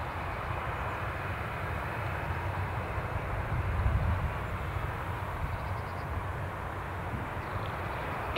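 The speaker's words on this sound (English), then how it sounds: "taxiing out, Boeing 737, Ryanair are pushing back now" A Ryanair Boeing 737 taxiing and pushing back at Newcastle International Airport gives a steady, distant jet-engine rumble that swells slightly midway and stays constant throughout, with no talking.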